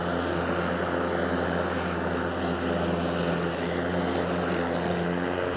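Ryobi 40V cross-cut cordless self-propelled lawn mower running through heavy grass, its motor giving a steady, close droning whine that holds fairly level for several seconds, with no talking.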